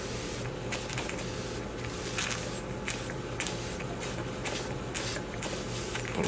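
A Bing vertical toy steam engine runs hot in one direction, giving a continuous hissing, spraying sound with a soft rhythmic chuff and faint mechanical rattling close by, with no talking.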